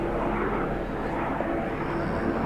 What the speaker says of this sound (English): So chopper makes its way over the ground.